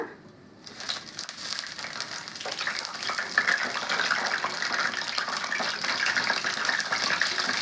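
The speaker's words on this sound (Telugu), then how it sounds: "అవి అయితే వేస్తున్న ఆయిల్లో. చూసి వేసుకోండి, పటపట అంటాయి కదా." Ivy gourd pieces, fresh from salted water, hit hot oil after a short quiet moment, and a dense crackling sizzle rises and keeps popping steadily until the end.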